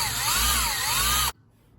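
A Forstner bit drills into the wooden belly of a handmade swimbait lure, a loud, steady whining power-drill drone whose pitch wavers slightly, then cuts off abruptly, leaving near silence.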